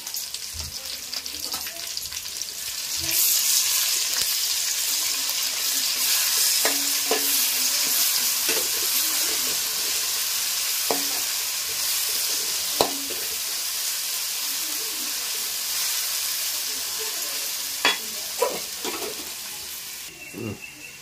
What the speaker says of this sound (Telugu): ఎర్రగడ్డలు కూడా బాగా ఫ్రై అయింది.